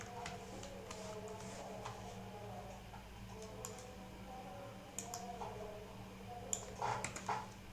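Computer keyboard typing while entering Python decorator code, a run of light, irregular clicks and taps over a steady low hum, close and fairly quiet, with a few sharper keystrokes near the end.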